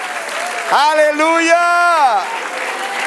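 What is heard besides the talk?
church congregation applause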